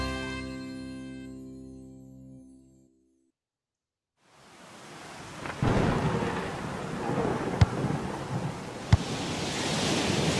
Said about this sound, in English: It's raining so heavily outside, and it's windy.